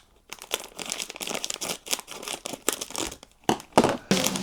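A toy box's packaging is cut open and handled up close, giving bursts of crinkling, scraping and tearing with no one talking.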